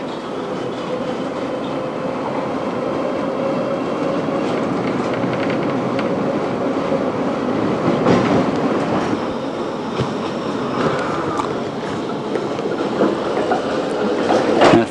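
A Budapest tram on route 41, filmed in 1989, rolls along its rails with a continuous close rumble, rhythmic wheel clatter and brief squeals, and no voices.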